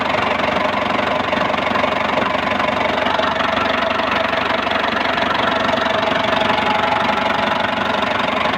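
A Ford Explorer 4.0 engine runs steadily at idle with a constant mid-range drone and a slight knocking texture, no pauses throughout.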